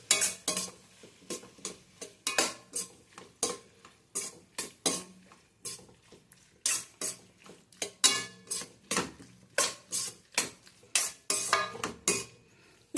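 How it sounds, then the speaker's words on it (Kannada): A spoon clinks and scrapes against a pan in quick repeated strokes, mixing chili sauce and soy sauce into an idli Manchurian mixture, the close metallic clatter coming in steady bursts. "ಇಷ್ಟು ಹಾಕಿ ಮಿಕ್ಸ್ ಮಾಡಬೇಕು."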